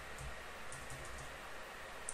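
Typing on a computer keyboard while entering a terminal command: soft, quick key clicks in an irregular run, faint and close.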